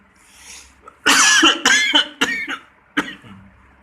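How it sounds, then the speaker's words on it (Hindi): A close, harsh fit of coughing: several sharp coughs in quick succession after a quiet moment, then one more after a short pause. "सॉरी, खांसी लगी हुई है।"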